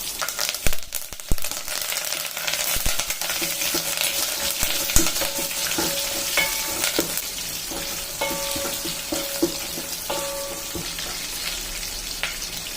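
Sliced onion and curry leaves fry in a small tempering pan for Andhra-style dal, with a constant close crackling sizzle, occasional metallic clinks and scrapes of a spoon, and no speech.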